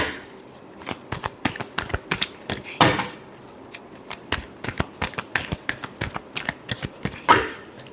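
Tarot cards being shuffled by hand during a reading, a rapid run of crisp riffling snaps and soft slaps, close and steady, with a couple of louder riffle bursts and no talk.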